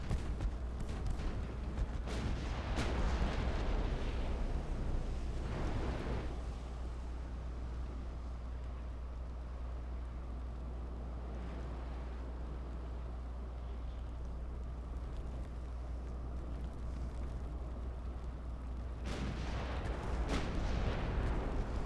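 Naval guns boom from a warship firing on a convoy in Ultimate Admiral: Dreadnoughts, with heavy blasts clustered at the start, then a long low rumbling lull before another burst of firing near the end, no talking.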